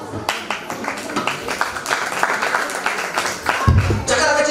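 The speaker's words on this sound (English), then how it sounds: "So welcome them with a big round of applause." A school annual function audience claps in a broad, uneven burst that lasts several seconds, with crowd noise and some voices mixed in and a thud near the end.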